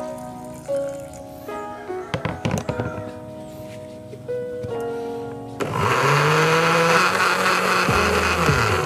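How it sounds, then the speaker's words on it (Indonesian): A blender grinding lamtoro (leucaena) leaves starts up and runs loud and steady with a harsh whirring roar, after several seconds of clattering and tapping. "ini yang terakhir saya blender"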